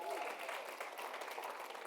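An audience at a marketing summit applauds the local chapter heads with a soft, distant wash of clapping that holds steady for about two seconds.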